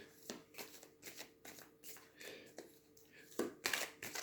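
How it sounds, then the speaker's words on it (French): Oracle cards are shuffled and drawn by hand: a series of soft papery riffles and slaps at uneven intervals, close and quiet, ending in a brighter burst of card flicks, no talk. "on va tirer quelques cartes"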